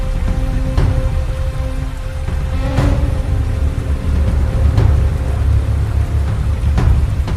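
Heavy rain pours steadily on a stormy night, a dense continuous hiss with scattered sharper drops and a low rumbling undertone, loud and without voices.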